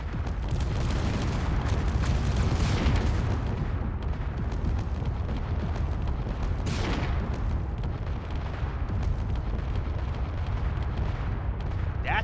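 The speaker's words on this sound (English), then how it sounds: "That's a lot of explosions down here." Heavy weapons fire and explosions rumble continuously in a Star Trek video game battle against the Borg, loud and dense with repeated booms and bursts layered over a constant roar, no voices.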